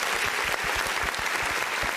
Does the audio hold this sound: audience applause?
yes